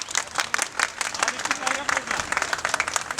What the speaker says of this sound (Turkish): bir alkış alın